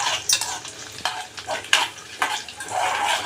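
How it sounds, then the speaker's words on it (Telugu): Coconut pieces and cashews fry in a pan for sweet chakkara pongal, a close sizzle broken by several bursts of scraping as a spoon stirs them against the metal. "కొబ్బరి ముక్కలు వేగిపోయినాయి చూసారా ఇప్పుడు దీంట్లో జీడిపప్పు వేసుకుంటారు"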